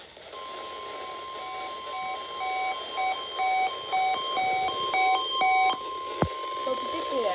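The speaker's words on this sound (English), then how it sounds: "This is a test of the emergency alert system and NOAA weather radio's warning alarm." Emergency Alert System and NOAA weather radio warning alarm tone from station WXM62, a loud continuous steady tone with layered beeping pulses, ending abruptly before a click and faint noise.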